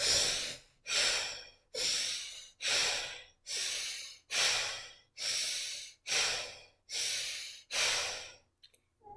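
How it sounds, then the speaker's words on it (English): Deep, slow breaths from a yoga class participant, ten long airy exhalations in steady rhythm, each swelling then fading with brief pauses between, close and fairly loud. "Inhale and exhale."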